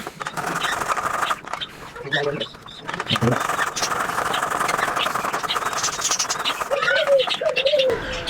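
Pigeons coo and chirp close by while being fed carrot, with soft rhythmic cooing and scattered calls under a person talking at times.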